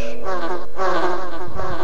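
Loud, close buzzing of bees in the video game Resident Evil, a dense droning hum that swells and wavers without pause.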